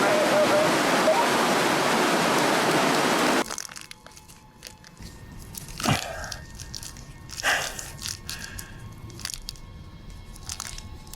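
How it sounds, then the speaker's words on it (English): A brook swollen with high water rushes loudly as dense continuous noise, then cuts away to a quieter space with scattered knocks and crunchy handling sounds. "due to the high water levels and the immense sound generated by the brook"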